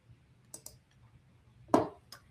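A few light, sharp mouse clicks while selecting a list button, spaced irregularly with one slightly louder click, over a quiet background.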